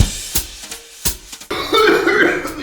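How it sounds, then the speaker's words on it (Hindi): A few sharp coughs, close by, followed by a burst of louder rough noise toward the end. "यार ये खांसी कहाँ से शुरू हो गई?"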